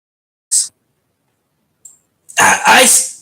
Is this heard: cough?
yes